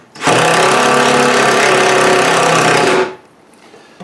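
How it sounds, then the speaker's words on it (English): A power drill drives the two top screws home during an ES65 install: one steady, loud, continuous whir lasting nearly three seconds, then stopping abruptly into quiet. "So our 2 screws in the top are still out about 1/2 inch, so we're just going to drill those in."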